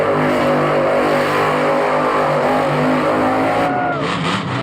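A monster truck at a Monster Jam arena show in Orlando, 2016, roars loudly and continuously, its engine revving and straining throughout before the sound cuts off abruptly at the end.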